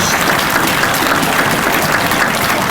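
An audience applauds motorcycle riders who came through carrying American flags at a Veterans Day 2016 presentation: a dense, steady burst of clapping from many hands that holds at an even level throughout, with no talk.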